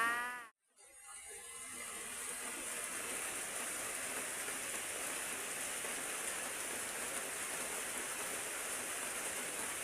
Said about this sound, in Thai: วันนี้ฝนตกจ้า